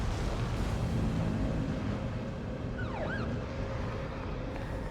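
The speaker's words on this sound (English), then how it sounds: "He commandeered an ambulance for us." An ambulance siren wails briefly in the video game The Evil Within, a short rising-and-falling tone over a loud engine rumble and background noise, with no talking.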